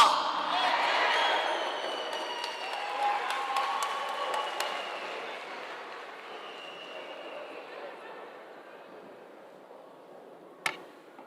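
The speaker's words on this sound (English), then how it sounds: "Let's give them another round of applause." Applause from an audience at a voter registration event, a broad wash of clapping that starts strong and slowly fades over several seconds, ending with a single sharp knock.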